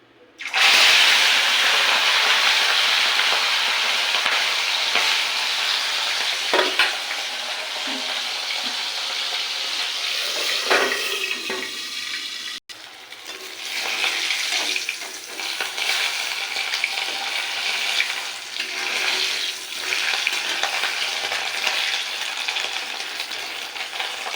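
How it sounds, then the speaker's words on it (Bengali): Tengra fish fry in oil seasoned with salt in a wok, giving a loud steady sizzle with occasional spatters and stirring clatter that carries on without a break and with no voices. "আবারও সব মাছ কটা ভাজতে বসিয়ে দিয়েছি।"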